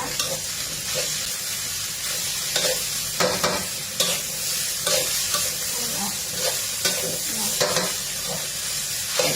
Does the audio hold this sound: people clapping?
no